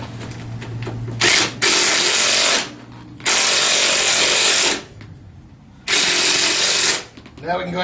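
Power tool driving the bottom bolts on a TaoTao 150 Hummer ATV during assembly, loud bursts of whirring with short pauses between, near the microphone.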